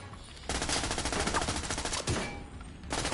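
Automatic blind fire crackles in rapid bursts in The Division 2 during a Bank Headquarters mission on Heroic difficulty, a dense rattling stream that starts after half a second, with a short break near the end before resuming.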